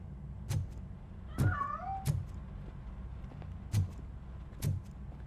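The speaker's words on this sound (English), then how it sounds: "That cat must be hiding inside. Let me lure it out." A cat meows once in a short rising-falling call amid sparse thumps and clicks inside a house in the video game Robocop Rogue City, with no speech.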